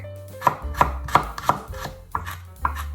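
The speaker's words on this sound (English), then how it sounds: "Chop it finely" A knife finely chops a garlic clove on a cutting board, giving about seven crisp, close knocks at a quick, slightly uneven pace with no talking.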